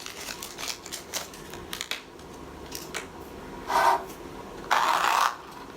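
Scissors cut through a strip of paint-covered tape or paper during a color block painting session, giving two short rasping snips near the end after a few light rustles; close and fairly quiet, with no talk.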